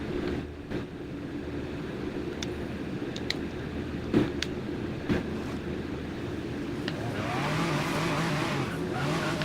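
Pagani hypercar driving in the Forza racing game, a steady engine drone with occasional tire squeal and brief skids, turning to a rougher rushing noise near the end, no speech.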